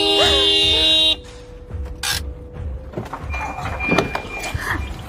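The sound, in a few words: car horn honking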